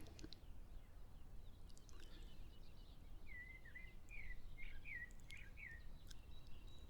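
Faint birdsong carries from a distance, a series of short repeated whistled notes in the second half over steady low background noise.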